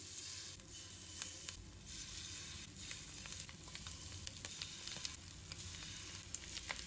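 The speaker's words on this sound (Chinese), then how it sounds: "油烧热后，把鸡翅一个一个的下入锅中" Chicken wings frying in hot oil in a pan, a steady close sizzle with faint crackles and small pops running throughout, no voices.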